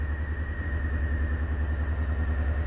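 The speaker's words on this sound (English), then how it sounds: "Fuel injected and automatic choke, so it revs high when the bike is colder" A fuel-injected Honda CBR600F motorcycle engine idles high on automatic choke while cold, a steady, loud, close-up drone with no talking.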